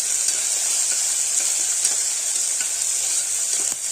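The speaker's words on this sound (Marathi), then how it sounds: "लगेच थोडासा बारीक चिरलेला कांदा टाकून घ्यायचा" Finely chopped onion frying in hot oil for a mutton kheema with fenugreek and potato makes a loud, close, continuous sizzle with faint crackles and occasional stirring clicks, no talking.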